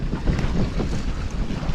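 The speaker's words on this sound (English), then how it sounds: "Let's go get some waves crashing." Surf rolls and washes along a beach in Belize, a continuous broadband rush mixed with heavy wind buffeting the microphone, loud and close without any voices.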